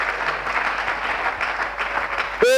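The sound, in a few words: congregation applauding loudly in church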